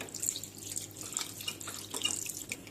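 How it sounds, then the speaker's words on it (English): Cold tap water running over strained cheese in a sink while making rasmalai, a steady close splashing and trickling with small drips throughout; no talking. "Keep on adding cold water."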